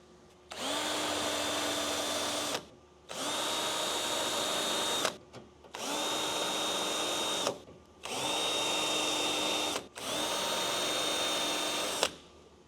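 Power drill boring a pilot hole into the metal of a vintage Datsun during windshield channel fabrication: five sustained whining bursts of about two seconds each, separated by short pauses, loud and close with no talking.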